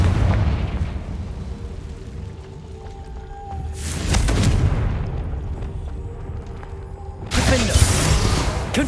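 Explosive fire spell blasts in the video game Hogwarts Legacy, two loud booming bursts a few seconds apart over a steady low game ambience with faint tonal hums.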